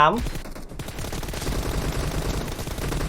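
Dense, continuous automatic gunfire from PUBG Mobile, a rapid rattle of shots running through the whole stretch, loud and close, with a brief tonal game cue at the start.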